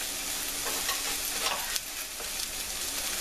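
Eggs fry in melted butter in a pan for tofu tamago yakisoba. A dense, even sizzle holds throughout, broken by a few brief surges and one sharp tap of a utensil, with no voices.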